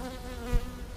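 Honeybees humming inside an open hive during a winter inspection, a close, continuous buzzing drone with a brief thump partway through.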